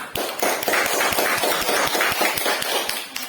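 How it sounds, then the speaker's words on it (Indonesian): Scattered hands clap together in a quick, uneven patter, a classroom of students applauding a group for a few seconds. "kalau tidak ada kita beri tepuk tangan untuk kelompok harimau"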